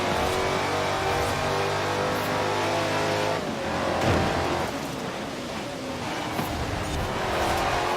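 A Dodge Charger Daytona in Forza Horizon 4 drives at speed, its engine a loud, steady roar with a shift in pitch midway as it takes a corner, continuous throughout.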